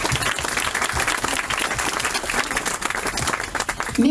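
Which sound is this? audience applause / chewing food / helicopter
audience applause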